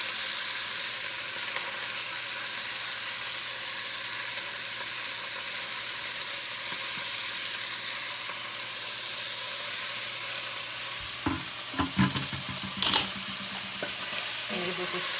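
Carrots, onions and peppers sizzle steadily in a frying pan, a continuous close hiss, with a few louder clattering stirs near the end.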